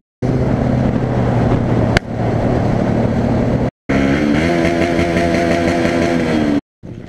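A motorcycle ridden fast on a group ride near Solina, with a loud, close engine roar and wind buffeting. Rising engine tones are heard, and the sound drops out briefly twice.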